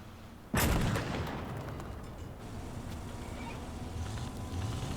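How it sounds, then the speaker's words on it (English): Artillery fire in the Gates of Hell strategy game, a single sharp, loud blast early on followed by a long rumbling roar of battle that stays dense and steady to the end. "Call the artillery in, see if they can deal with it."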